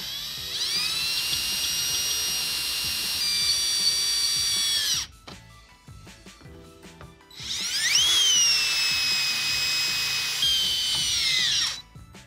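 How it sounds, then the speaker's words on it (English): Jack screws on a Delta R2707 or R4707 deck mount rough for a Roman tub are driven by a loud, whining power drill in two long bursts with a short pause between them, and no talking. "as I'm tightening these jack screws, that dimple plate is gonna start moving towards the bottom of the deck"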